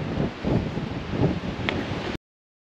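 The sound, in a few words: strong wind outdoors on a path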